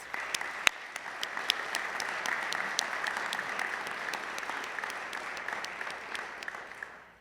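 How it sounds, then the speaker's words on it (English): Sustained audience applause at a hall of fame induction ceremony for college athletes, a dense steady wash of many hands clapping from start to finish, with a few sharper claps standing out near the front. "Let's give them all another round of applause"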